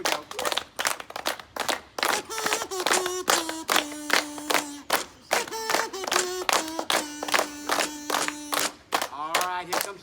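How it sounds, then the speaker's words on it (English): An audience claps in a steady rhythmic beat along to live music, sharp hand claps repeating evenly and close while a melodic tune plays underneath. "Keep clapping, keep clapping."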